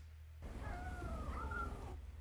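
A cat gives a drawn-out, wavering meow from a movie soundtrack, faint and low in level over a steady low hum, with no speech.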